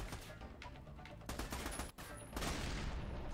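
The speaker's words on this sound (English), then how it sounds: "So hold on, I'm gonna shoot one of the bombs." Video game gunfire rattles in fast, continuous bursts as bombs are shot, a dense crackle that briefly dips before resuming louder, with no talk.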